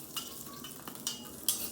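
Chillies frying in a little hot oil in a kadhai for a tempering, a soft crackling sizzle with brief scraping stir sounds and a couple of brighter hissing bursts.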